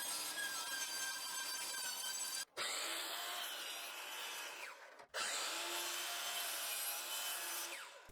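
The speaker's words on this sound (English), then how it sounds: "used the miter saw to cut each piece down to final size." A miter saw cuts wood pieces for pull-out kitchen shelves, whining steadily through two long cuts separated by brief near-silent gaps, close and continuous with no voices.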